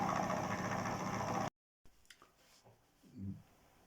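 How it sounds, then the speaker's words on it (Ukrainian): A DC electric motor, its speed set by a rheostat, whirs with a steady, fairly loud hum for about a second and a half, then cuts off abruptly. Faint clicks and handling noises follow. "за допомогою реостата досить легко регулювати швидкість обертання двигуна."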